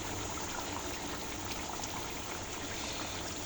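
Chicken meat being rinsed in a vinegar-and-water wash: a steady, close rushing of running water that pours and trickles without pause.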